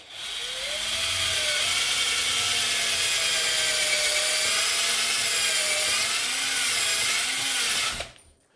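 A power drill whines steadily for about eight seconds, its pitch wavering slightly as it bores holes into a Les Paul-style guitar body for the bridge, then cuts off abruptly.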